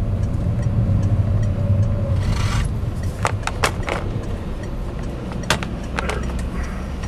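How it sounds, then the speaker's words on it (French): A Peugeot 407 V6 engine rumbles low and steady as the car accelerates on a road trip, heard from inside the cabin, while loose objects rattle and clink in short bursts throughout. "bruit du moteur et l'accélération accessoirement"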